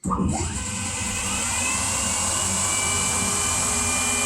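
A PM-30MV milling machine cuts a bevel contour on a knife blade, giving a steady, loud high-pitched whine from the spindle and cutter that holds constant throughout with no talk.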